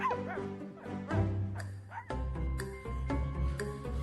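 A dog barks and yips several times in quick succession, close and clear, with whimpering whines between the barks, alone without talk.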